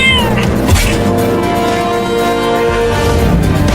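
A cartoon cat meows loudly in drawn-out, wavering yowls over a busy musical backdrop, clear and close throughout.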